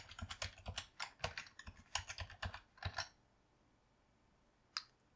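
Dimensions are typed on a computer keyboard in quick, close, crisp keystrokes for about three seconds, followed by quiet and one final isolated tap.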